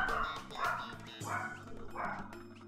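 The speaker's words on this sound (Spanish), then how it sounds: "Y los perros ladran." Dogs bark in a video game setting, Yoshi's Woolly World on Wii U, with repeated yapping barks in bursts about every half second, fairly close and moderately loud over busy game music.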